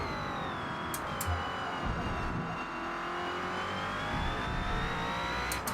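A Next Gen NASCAR stock car in Forza Motorsport revs hard and steadily through the gears at Mount Panorama, a loud continuous engine roar with rising pitch close up.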